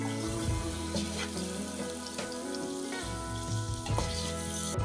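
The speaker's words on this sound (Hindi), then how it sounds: "आपने 5 मिनट भूनना है अच्छी तरह से।" Chicken korma fries in a pot, a loud, continuous dense sizzle with crackling spatters and occasional stirring scrapes, heard close with no talking.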